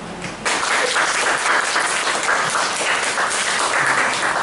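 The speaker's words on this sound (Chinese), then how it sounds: "我们再用热烈的掌声为今天的三位演讲" An evening audience at a camp gives sustained, dense applause for three speakers, beginning after a short quieter moment and continuing strongly to the end.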